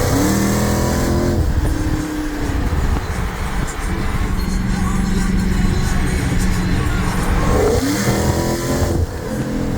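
Car engine accelerating on a road, a loud close rising hum with gear-shift breaks and steady road rumble throughout, no talking.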